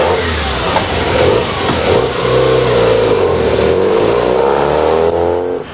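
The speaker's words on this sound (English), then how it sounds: "And despite that distinctive rotary engine buzz" Mazda rotary engine in a Maxton roller skate sports car accelerating hard at a racing park, a loud, continuous high-pitched buzzing drone rising and holding steady throughout, close and alone with no talk.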